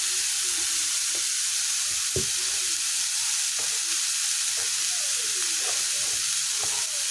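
Maan kochu (giant taro) frying in a pan with salt and turmeric crackles with a continuous sizzle, while a spatula scrapes and clinks against the pan in irregular strokes, close and fairly loud.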